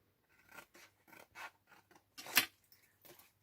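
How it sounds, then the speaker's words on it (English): Scissors snip through stiff cardboard in a series of short, rasping cuts, close and quiet, with brief pauses between strokes. "These scissors need sharpening."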